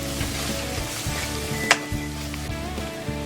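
Nutmeg and cumin spices sizzle and fry in oil in a pan for malai kofta, a close, steady crackle with a spoon stirring and one sharp metallic clink against the pan.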